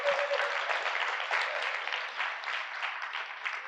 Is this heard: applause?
yes